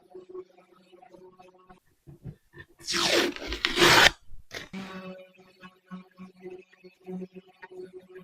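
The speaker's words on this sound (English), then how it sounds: "let's see what happens when we sand this" Sandpaper rasps hard across a painted, waxed primitive wooden box in one loud burst of about a second and a half, with quiet scattered taps and rubbing before and after.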